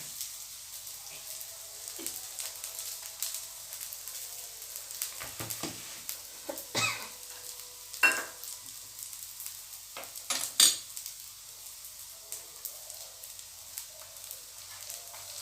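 Food deep-fries in oil with a faint, steady sizzle, punctuated by occasional louder crackles and pops at irregular intervals.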